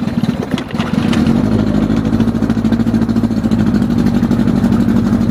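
An old carbureted outboard motor idles on a 1965 Boston Whaler, a loud, close, steady low rumble that settles into an even throb after a brief rougher start.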